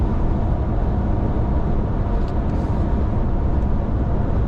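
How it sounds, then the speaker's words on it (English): Tire hum inside a 2025 RAM 1500 Rebel Hurricane pickup truck while driving, a steady loud low-pitched rumbling drone filling the cabin without letup. "you can hear that hum from the tires so much better"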